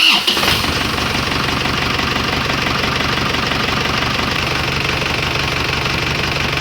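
Isuzu Crosswind diesel engine cranking and catching right after an oil change, then settling into a steady, rhythmic idle with a knocking clatter, loud and close throughout.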